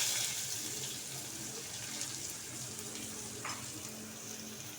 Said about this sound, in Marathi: आता हे परतवून घ्यायचं छान कांदा हा कांदा जास्त परतायचं नाही